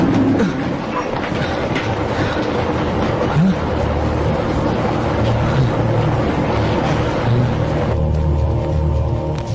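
A fast-moving train crossing a bridge in a Hindi film scene, a loud continuous rumble and rattle of wheels and carriages that fills the whole stretch with a steady roar.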